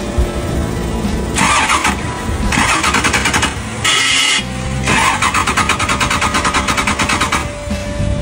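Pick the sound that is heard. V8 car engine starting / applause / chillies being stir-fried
V8 car engine starting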